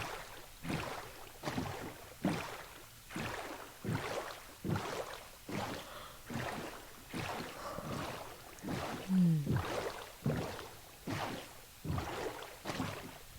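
A boat gliding across water in Minecraft, rhythmic paddle splashes repeating about once a second, soft and steady with light wind noise and no voices.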